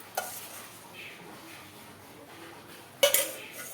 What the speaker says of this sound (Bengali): ডালের সাথে আমি খুন্তি দিয়ে ভালো করে মিশিয়ে দিচ্ছি।